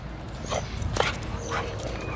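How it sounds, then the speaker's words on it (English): A neighbor's dog yips and whimpers in a few short, close bursts, with a soft voice faint underneath in the background. "we got a neighbor dog. He also does not run away."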